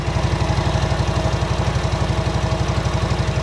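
An engine idling through a TAB slip-on exhaust, a loud, close, deep, even low pulsing throb that holds steady throughout with no voices.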